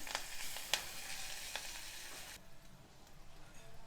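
Curry leaves and turmeric frying in a pan with ginger, garlic, onions and drumstick leaves for a Telangana curry, giving a soft, quiet sizzle with a few spatula taps that drops off abruptly partway through.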